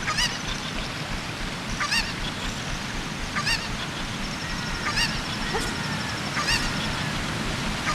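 Cucco chickens in Zelda: Ocarina of Time squawk in repeated short honking cries about once a second, fairly loud over a steady noisy game background, with no talk.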